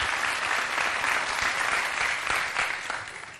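A TV studio audience claps steadily, a dense, even wash of applause that fades slightly toward the end.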